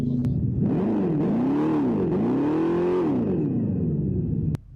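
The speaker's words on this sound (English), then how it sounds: "the fake exhaust sounds in the new all-electric Dodge Charger" An artificial engine rumble from an all-electric Dodge Charger's fake exhaust sound revs up and down in pitch several times, loud and steady, then cuts off abruptly.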